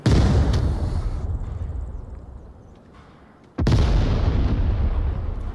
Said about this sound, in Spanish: Se tiró una granada.